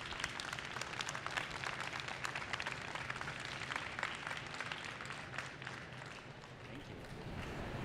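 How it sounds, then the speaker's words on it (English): A seated audience at a live reading event applauds with dense, continuous clapping at a steady level, and scattered voices mix in with it. "Can we have another round of applause for Jesse and all the presenters?"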